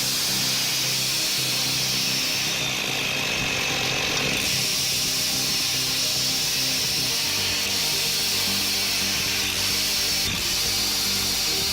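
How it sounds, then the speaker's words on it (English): A chainsaw fitted to a firewood processing rig cutting through logs, a continuous loud rasping, grinding drone with a shift in pitch partway through as the blade bites, no talk. "the blade chews through wood non-stop"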